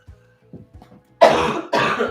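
A few soft throat sounds lead into two loud, harsh coughs close to the listener, one right after the other.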